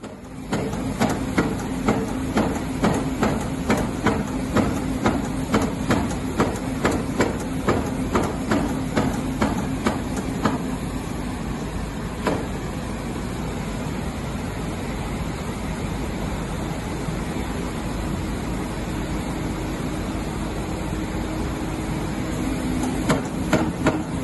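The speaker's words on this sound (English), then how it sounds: "some of those sound effects of the hammering away" Steady, repeated metallic pounding strikes in a regular rhythm for the first half, then fewer blows over a continuous rushing, watery background roar, as a hammer breaks up the Tobacco River Dam spillway during demolition.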